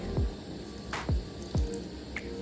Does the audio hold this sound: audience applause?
no